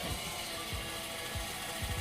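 Lippert PSx2 stabilizer motor extending on an RV, a steady mechanical whir with low ratcheting, gear-like clicks running throughout at moderate level, no talk.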